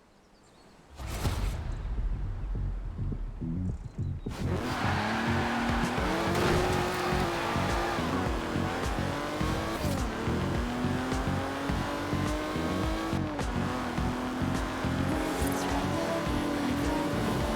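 A car driven in the racing video game Forza Horizon 4, a loud engine roaring and revving through rising and falling gear shifts, with tire squeal and skidding over a sustained drone.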